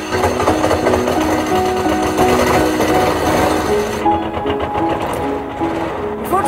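An engine with a carburetion fault, started and running roughly: a loud, rattling, fast mechanical chatter like a sewing machine, continuous and close, slightly thinning toward the end, with no talk.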